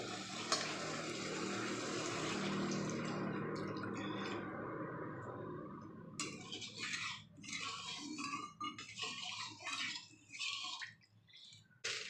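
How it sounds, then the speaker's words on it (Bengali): Water poured into a pan of fried mustard and ginger masala for an aubergine curry, a steady loud sizzling hiss that softens after a few seconds into bursts of bubbling and scraping stirs. "এবারে এর মধ্যে দিয়ে দিচ্ছি জল।"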